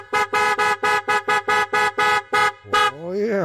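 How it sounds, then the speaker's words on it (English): A loud dual-tone motorcycle horn on a 2015 Harley-Davidson Ultra Limited blares in ten quick, evenly spaced bursts followed by one longer note, then a falling tone as it trails off. "Honk, honk, get out of my way."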